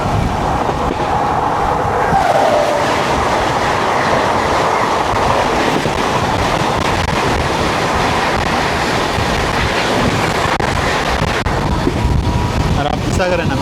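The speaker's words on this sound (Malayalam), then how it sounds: "ഗോരഖ്പൂരിൽ നിന്നും തിരുവനന്തപുരം നോർത്തിലേക്കുള്ള റപ്തിസാഗർ എക്സ്പ്രസ് ആയിരിക്കണം." The Raptisagar Express, running from Gorakhpur to Thiruvananthapuram North, thunders past on the opposite track. It is heard close and loud from inside another train, a continuous roar of wagons and rhythmic clickety-clack with wind buffeting throughout.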